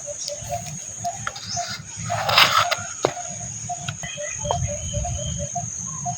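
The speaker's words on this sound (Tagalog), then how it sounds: "May narinig tayong mga ibon" Birds calling outdoors: soft repeated chirps and coo-like calls over a steady bed of cricket and insect buzzing, fairly faint, with a brief louder burst of rustling partway through.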